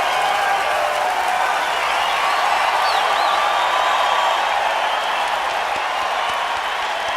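Steady applause and hand claps rise from a large concert crowd at a live show, a dense, continuous wash of clapping heard at a distance over the hall.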